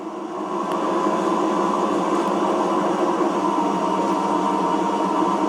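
Steady low rumble and grinding roar of a heavy 1,700-tonne freight train starting to move slowly, constant and close, with faint squeals riding on top.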